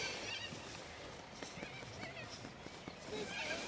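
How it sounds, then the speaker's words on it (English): Hooves thud and clop in an irregular series as a horse is unloaded from a horse float at a dressage event, moderately loud over outdoor background noise, with other horses and geese faintly audible and voices nearby. "Now that horse is going to get off the float, so hopefully he'll be okay, because it will be loud."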